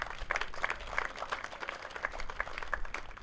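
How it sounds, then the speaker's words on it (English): A small outdoor crowd at a parks and recreation complex grand opening claps in scattered, fairly faint applause that holds steady for a few seconds. "give them a round of applause"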